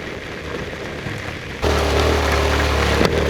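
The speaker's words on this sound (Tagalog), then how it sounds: "Grabe guys ang ulan." Heavy storm rain on a motorcycle ride along the C6 road toward Taytay, a steady dense wash that suddenly grows louder partway through and then holds, with a faint engine rumble underneath and no talk.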